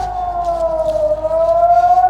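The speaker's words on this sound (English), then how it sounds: "There's another siren, and the guys in the car can't hear it." An air raid siren wails in Ashkelon during rocket alerts near the Gaza Strip, a loud, steady rising-and-falling tone that fills the whole stretch with no voices over it.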